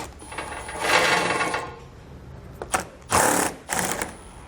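Ratcheting socket wrench with a 7mm socket removing bolts from a car's under shield, giving a few short bursts of fast mechanical clicking separated by pauses, close and moderately loud.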